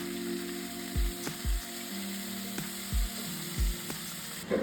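Kebab meat frying in a pan over lowered heat gives a steady close sizzle, broken by four or five low thumps as pieces are moved or pressed.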